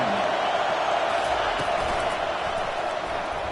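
A big stadium crowd roars steadily in a college football video game, Alabama against Tulane, as the defense holds near the goal line; the dense, even cheering fills the whole stretch without a break.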